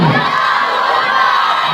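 Schoolboys at a school Milad gathering shout a loud, unified chant in answer to a religious slogan, a single sustained burst of many young voices together.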